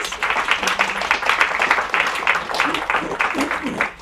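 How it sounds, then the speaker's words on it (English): An audience claps for a speaker, a moderately loud, uneven round of applause with distinct hand claps and possible talk mixed in throughout. "Let's give a round of applause"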